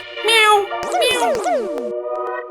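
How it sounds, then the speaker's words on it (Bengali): A cat mewing in a short run of three or four rising and falling meows, close and clear against a quiet background. "বিড়াল এলো নাকি?"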